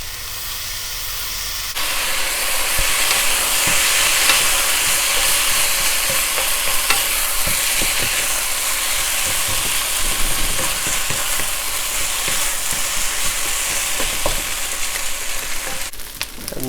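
Ham kimchi fried rice sizzles loudly and steadily in a hot pan after soy sauce goes in, with constant stirring and scraping over a dense frying hiss and no talking.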